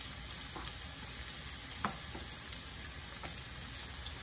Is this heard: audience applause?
no